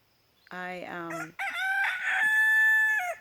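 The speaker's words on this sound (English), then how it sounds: "there's that rooster. He's right behind us." A rooster crows loudly nearby, one long drawn-out cock-a-doodle-doo with a rising start and a sustained ending, heard clearly on its own.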